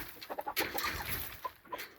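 Two hens, a McLean's hatch hen and a leaper, cluck in a farm pen, with a run of short, fairly close calls repeating unevenly and no talking over them.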